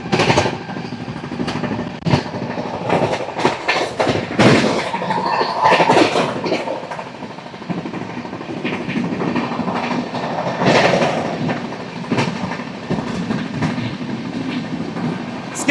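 Coromandel Express (12841) running at high speed, about 123-125 km/h, through Narsipatnam station: continuous loud rail roar with rhythmic clickety-clack of wheels over joints and sharp rattling bursts, no voices.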